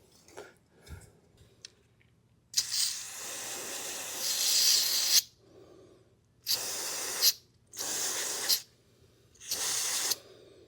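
Cleaner is sprayed from an aerosol can onto a truck's MAP sensor in several bursts of loud hissing, a long spray followed by three shorter ones with brief pauses between, after a few soft clicks and handling noises.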